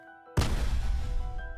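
A loud cannon blast from a Night Castle stage in a speedrun video game erupts suddenly and alone, a broad booming burst that lingers with a rumbling low tail over a faint background of game music.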